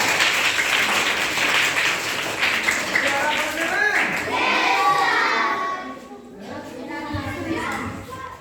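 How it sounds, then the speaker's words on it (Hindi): Children in a classroom clap together in a burst of applause, a busy patter of hand claps mixed with young voices that thins and fades out toward the end. "ताली बजा दो एक बार।"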